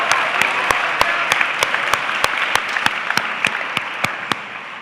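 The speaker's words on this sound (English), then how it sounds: "We can cheer at this point," An audience at a high school class night awards ceremony applauds with dense, continuous clapping, while one louder, regular clap repeats close by throughout.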